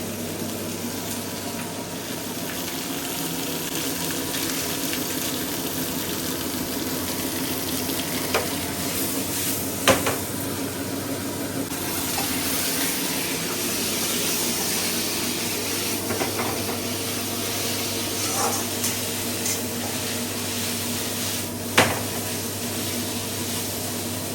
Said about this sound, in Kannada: ಆನಿಯನ್ ಚಿಲ್ಲಿ ಶುಂಠಿ ಬೆಳ್ಳುಳ್ಳಿ ಪೇಸ್ಟ್ ಮತ್ತು ಆಯಿಲ್ ಇದಿಷ್ಟನ್ನ ಚೆನ್ನಾಗಿ ಆಯಿಲಲ್ಲಿ ಫ್ರೈ ಮಾಡ್ಕೋಬೇಕು.